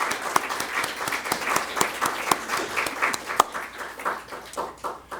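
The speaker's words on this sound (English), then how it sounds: "please join me in giving them a round of applause for all of their work today" An audience at a festival gathering applauds, a steady patter of many hands clapping at moderate loudness that continues for several seconds without talk.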